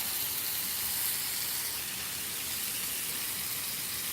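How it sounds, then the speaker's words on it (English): Steam hisses off food on an outdoor grill in stormy hurricane weather, a steady, even broadband hiss that holds at a constant level throughout. "Let it steam a little bit."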